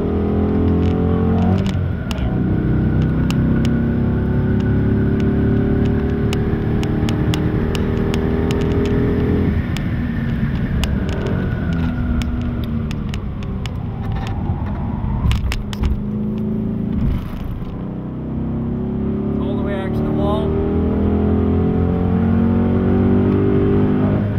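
Race car at Circuit Gilles Villeneuve, its engine droning loud and steady for the whole stretch as it accelerates, with shifting engine tones and brief dips.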